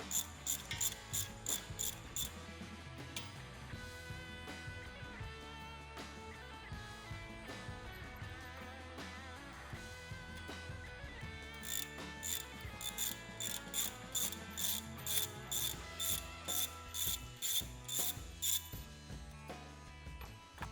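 Bolts on the trigger mount of a Wedgelock C6 quick coupler being undone with a ratchet, fast rhythmic clicking bursts at the start and again later, with metallic handling in between, close and clear with no speech.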